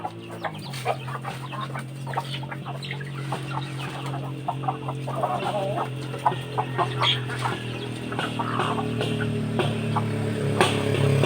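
Several chickens cluck repeatedly in short, scattered bursts over a steady low hum, fairly close and moderately loud throughout.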